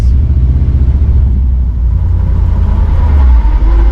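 A 1955 Chevy fitted with a NASCAR racing transmission rumbles steadily at close range, its engine drone carrying a rising gear whine that climbs in pitch toward the end.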